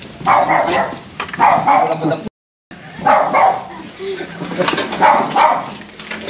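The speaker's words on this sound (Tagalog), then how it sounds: "May mga aso." Dogs bark intermittently near a dwelling, with pigeons cooing and people talking throughout; a short dropout breaks the sound partway.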